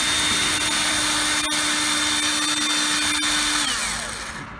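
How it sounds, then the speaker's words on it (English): A power drill fitted with a bigger bit enlarges holes during a truck cab light install, holding a steady, loud, close-up whine that spins down near the end, with no talking. "Bigger drill bit. Make these holes bigger."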